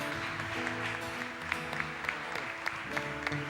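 A church congregation applauds during a Tuesday worship service, sustained clapping spread through the hall over a soft background of held musical tones, moderately distant.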